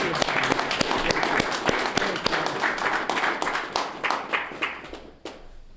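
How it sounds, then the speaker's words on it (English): Audience at a Golden Gloves boxing press conference applauding, a fairly small group of distinct, sharp claps in a brisk rhythm that thins out and fades toward the end. "give a round of applause to this great man here, Paulie Moran."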